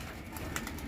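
A bird coos softly once, somewhat distant, over a low background hum.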